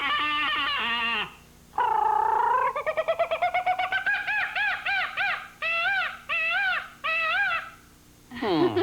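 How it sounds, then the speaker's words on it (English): A jungle sound effect of varied bird-like calls: a long warbling whistle, a fast run of clipped chirps, then several loud rising-and-falling hoots in a rhythmic series. The calls are close, clear and separated by brief pauses. "How about jungle sound?"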